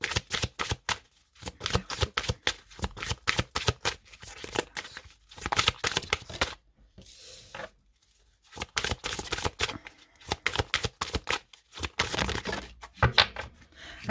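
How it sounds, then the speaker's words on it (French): Tarot cards shuffled by hand at close range, with rapid riffling and flicking bursts that break for short pauses and then resume. "on prend 2 cartes."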